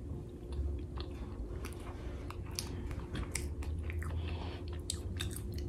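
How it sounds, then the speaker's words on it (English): Close, quiet chewing of fufu with goat meat, with soft wet squishes and small crunchy bites repeating irregularly. "you're supposed to swallow the fufu whole, but you know you gotta chew the meat"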